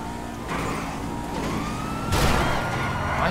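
Police car siren in a video game, its wailing tone sweeping up and down over a steady background rumble of engines and traffic, growing louder and more crowded toward the end.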